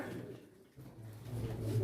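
Pigeons coo softly at a pigeon auction in Çorum, a low steady murmur that grows slightly louder toward the end, with no clear talk over it.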